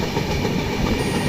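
A Rajdhani Express passenger train rolls along the rails while picking up speed, giving a loud, steady rumble with rhythmic clickety-clack from the wheels, heard from close on board and without any talk.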